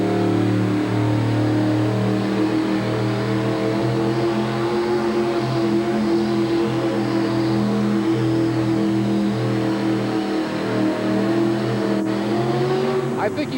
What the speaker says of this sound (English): Building a lot of heat in the motor,